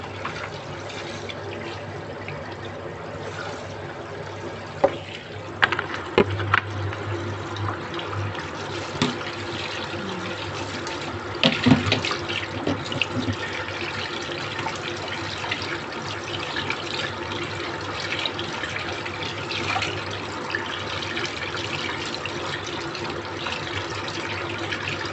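Tap water runs steadily into a sink while pork bones are washed for a corn, chayote and carrot soup, with a few sharp knocks and clatters of bone against the basin over the constant flow.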